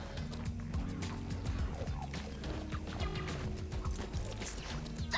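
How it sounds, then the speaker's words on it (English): A horse ridden in the Western game Red Dead Redemption 2 clip-clops at a steady run and whinnies, its hoofbeats loud and continuous with a brief neigh, no talk over it. "Damn horse acting up on me, of all the times."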